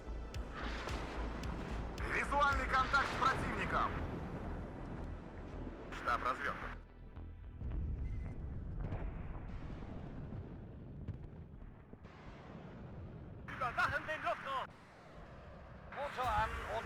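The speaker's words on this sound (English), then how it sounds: "I'm bringing in my own artillery." Artillery shells burst in the WARNO video game, several broadband blasts landing in separate clusters over a low rumbling battlefield bed while someone talks throughout.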